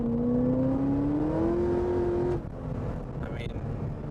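A 2010 Corvette ZR1 accelerating in second gear, its engine note climbing steadily in pitch for about two seconds, then dropping away as the revs fall, loud and close with steady road and wind noise.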